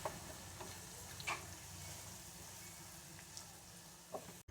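Steady soft sizzling of onions frying in a pan for haleem, a continuous crackling hiss with a few faint clicks and taps.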